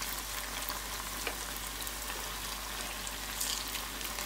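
Dough fries in a small one-litre deep fryer of hot oil, giving a steady, dense sizzle and bubbling crackle throughout, fairly close and continuous.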